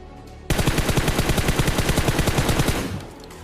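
Rapid automatic gunfire in a shooting video game, one sustained loud burst of evenly spaced shots lasting a few seconds before cutting off, no voices.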